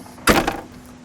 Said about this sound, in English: We'll open the door.